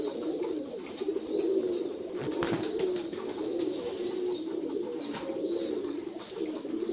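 Many pigeons coo steadily at a loft housing about two hundred birds, soft overlapping calls continuing throughout with occasional brief rustles and flutters nearby.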